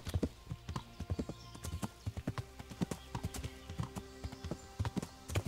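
Horse hooves clip-clop in a quick, steady rhythm, clear and close, with faint tonal background sounds underneath, from the video game Kingdom Come: Deliverance.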